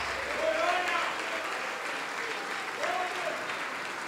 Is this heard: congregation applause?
yes